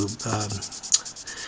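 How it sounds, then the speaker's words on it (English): Sandpaper wet with water rubs back and forth over a vulcanite tobacco pipe stem, giving soft rhythmic scratchy strokes close up, with one brief sharper tick partway through. "I'll put a little bit of water on the sandpaper to start"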